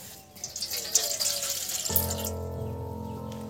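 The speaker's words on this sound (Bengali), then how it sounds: "বন্ধুরা এবার আমি কড়ার মধ্যে আমি জল দিয়ে দেবো।" Water pours and splashes into a wok (kadai) over a lit stove while cooking kulcha, a steady watery rush that shifts to a fuller, resonant filling sound partway through.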